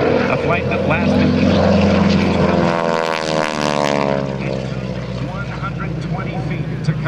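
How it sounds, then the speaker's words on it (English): A North American Aviation advanced trainer propeller airplane at an airshow makes a loud, steady engine drone that rises and falls as it banks through a high-energy turn overhead. A commentator speaks over the engine. "There's the high-energy turn as Bill circles around in this advanced trainer, built by North American Aviation, coming back around."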